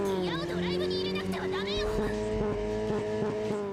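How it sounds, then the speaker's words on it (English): A powerful car engine revs loudly in an underground garage in Steins Gate 0, a sustained roar with shifting pitch and a steady rhythmic pulse in its second half, with a voice speaking over part of it. "The sound of a powerful engine shook the underground air."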